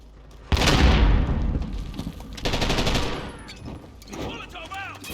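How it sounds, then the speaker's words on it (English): In the Warzone video game on Rebirth Island, a grenade explodes with a sharp, heavy blast, and bursts of rapid gunfire follow. Faint game voice callouts sound near the end. "Grenade out!"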